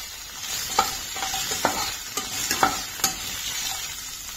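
Sausages fry lightly in a pan with a steady soft sizzle, broken by several sharp clinks and scrapes of a utensil stirring, with no talking.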